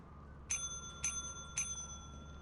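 A bell in the video game Lethal Company is pressed three times at an even pace, giving clear ringing dings that fade over a quiet background.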